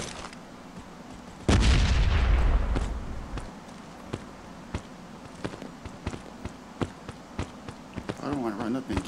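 A grenade explodes in the mobile shooter game Modern Ops with a loud, sudden boom, followed by a string of sharp, scattered gunshots and footsteps over a steady low background.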